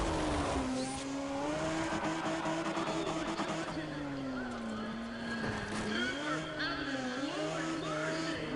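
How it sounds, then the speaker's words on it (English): Tires squeal in a long wavering screech as a car drifts in Need for Speed ProStreet, over a constant engine roar. The sound rises and bends in pitch through the slide, and a voice talks faintly underneath. "That was a clean drift."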